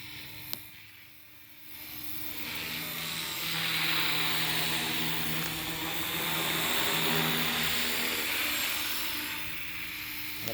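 A 270 Fusion RC helicopter in flight, its rotor and motor making a continuous whirring whine that swells and fades slightly as it moves, moderately near, with no talking.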